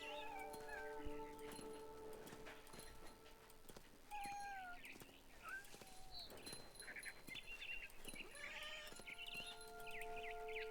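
A cat meows several times in the video game What Remains of Edith Finch, the calls mixed with high chirping bird-like sounds and other faint game noise.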